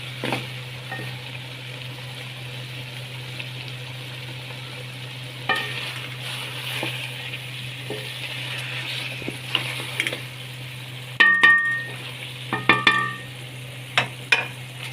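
Onions and spices for beef paya cook gently in a pan over a low flame, a soft steady sizzle with a constant low hum beneath and a few scraping, clinking stirs toward the end.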